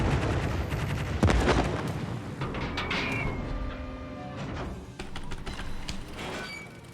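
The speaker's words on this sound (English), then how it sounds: "Oh my god, these bombs" Bombs explode in a video game air battle: a series of loud, booming blasts and rumbling bursts come in quick succession, with some farther, duller impacts fading toward the end.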